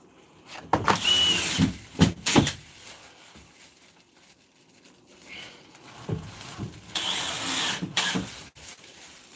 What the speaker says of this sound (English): Put that on while I cut the next piece of drywall.